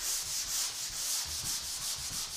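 Sandpaper rubbing over dried drywall joint compound covering a screw head, a steady back-and-forth scratchy hiss in rhythmic strokes, close and continuous with no talking.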